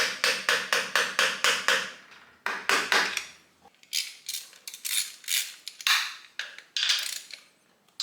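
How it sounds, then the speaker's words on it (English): Screwdriver used as a punch, tapped to bend lock tabs on a 1987 Harley-Davidson FXRS transmission inner primary: a rapid series of sharp metallic taps in clusters, close and fairly loud. "I know this is a screwdriver, not a punch, but I'm going to try to be gentle with these tabs"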